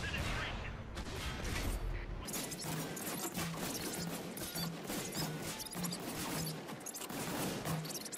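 Tank guns firing in the video game World of Tanks: a burst of heavy booms and crashes, then repeated blasts roughly every half second under a dense battle din.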